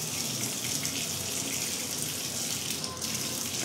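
A tap runs steadily while eyeglasses are washed under it, a close, even hiss of flowing water that barely changes across the few seconds.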